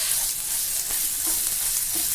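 A ground paste for beetroot chutney, cooked with curry leaves and turmeric, fries in a pan with a continuous soft sizzle and a few faint stirring scrapes. No one speaks.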